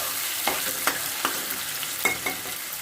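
Tomato and onion fry in a pan with a constant sizzle while a spoon taps and scrapes several times in an uneven rhythm, close and clear.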